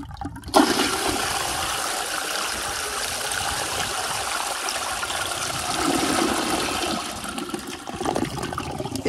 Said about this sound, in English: It took 2 flushes to get it down.